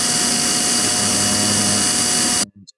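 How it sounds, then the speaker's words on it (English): A loud, steady mechanical whine and grinding drone of underwater drilling in the video game Deep Sea Frequency runs continuously, then cuts off abruptly, leaving brief electronic blips. "you hold E to start drilling"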